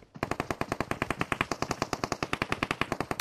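Rapid sustained automatic fire from a Vector gun in a video game, a dense even stream of about ten shots per second, loud and close, with no voices.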